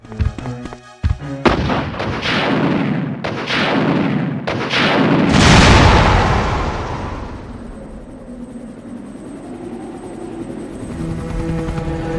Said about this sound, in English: Picking up a weapon and firing it never felt more satisfying.